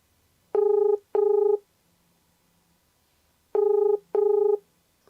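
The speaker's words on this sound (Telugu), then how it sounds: "ఒకసారి అతనికి డైరెక్ట్గా ఫోన్ చేసి ప్రయత్నం చేద్దాం" Telephone keypad tones as a number is dialed for a call, four steady electronic beeps in two pairs with a pause between, clear and alone with no talk.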